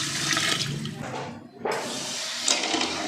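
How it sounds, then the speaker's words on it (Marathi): Water is poured into a pot of sugar to make syrup for sweet bundi, a close, rushing stream that pauses briefly midway and then goes on. "साखर भिजेल एवढं पाणी ह्यामध्ये घालायचं आहे"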